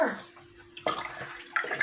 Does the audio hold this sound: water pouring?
yes